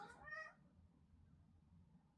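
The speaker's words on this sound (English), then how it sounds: "I had to open my door and let my cat out" A pet cat gives one short, faint meow at a door, followed by near silence and then a sharp click or knock at the very end.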